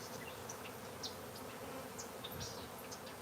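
Honeybees buzzing as they settle inside a box, a dense, continuous hum close by with a few individual bees droning past, fairly quiet and steady throughout with no talk.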